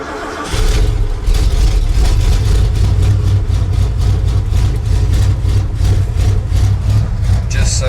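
A truck engine idles roughly after a sub-zero cold start with a blown carburetor power valve, a loud, steady low rumble with a pulsing lope that runs throughout.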